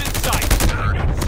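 Rapid gunfire from the video game Call of Duty Mobile, dense bursts of shots packed close together at steady loud level throughout, with game voice callouts heard around it.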